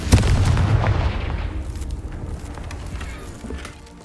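Confringo fire spell explosions in the video game Hogwarts Legacy: a loud, sharp burst at the start that rolls into a fading rumble and crackle, with a smaller thud near the end.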